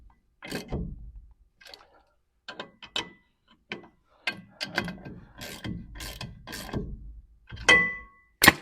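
A ratchet snugs up bolts on a long-neglected vehicle during brake work, giving scattered bursts of close, crisp clicking with quiet gaps between them.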